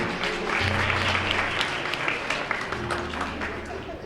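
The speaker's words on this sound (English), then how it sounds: "Give her a round of applause, please." Warm applause from the audience at a Black History Month celebration welcoming a Board of Education speaker, steady clapping from a moderate crowd with a low hum and some voices beneath.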